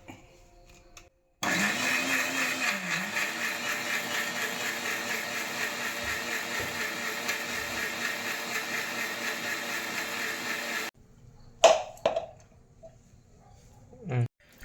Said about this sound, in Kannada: ಇದಿಷ್ಟನ್ನು ಮಿಕ್ಸಿ ಜಾರಿಗೆ ಹಾಕಿ ಗ್ರೈಂಡ್ ಮಾಡ್ಕೊಳ್ಳಿ.